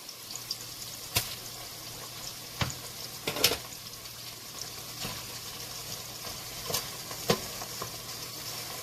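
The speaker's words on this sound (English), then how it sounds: "Make sure you stir the ogiri properly so that it will be evenly distributed in the pot." Ogiri and onions being stirred in a pot for fried okra soup: a low simmering sizzle with sharp spoon knocks and scrapes against the pot at irregular intervals, close by.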